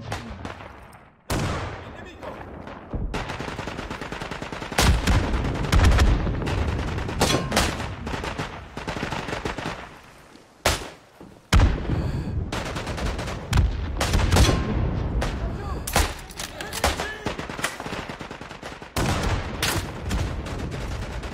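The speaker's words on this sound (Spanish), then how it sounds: "voy a usar las metralletas en este momento" Machine-gun fire in the World War I shooter Isonzo: dense, loud bursts of automatic fire and gunshots that keep going with only short gaps, with occasional talk mixed in.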